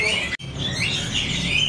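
Songbirds chirp at a bird shop, among them a Medan spotted magpie-robin: busy, overlapping close-range twitters and whistles run continuously, broken by one split-second dropout.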